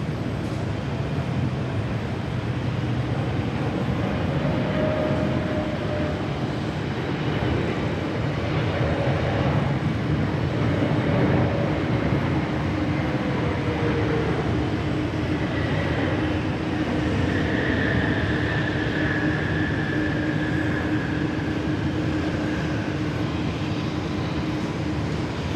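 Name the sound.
Air New Zealand airliner arriving at Sydney Airport runway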